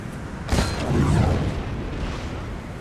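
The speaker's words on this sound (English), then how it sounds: "Oh no, there's the cannon." A cannon fires on a land battle in Napoleon Total War with a single sharp, fairly distant boom about half a second in, followed by a low rolling rumble that lingers and slowly fades.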